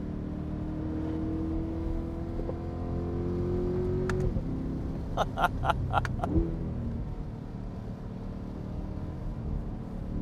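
Chevrolet C8 Corvette driven hard through canyon roads with paddle shifters, its engine droning and climbing in pitch under acceleration, then cut by a series of sharp rapid pops during quick gear changes before settling into a steady cabin rumble.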